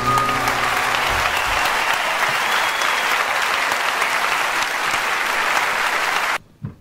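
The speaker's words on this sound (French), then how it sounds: "merci de l'applaudir" A crowd applauds at a French eloquence championship, loud sustained clapping from many hands that holds steady for several seconds before cutting off abruptly.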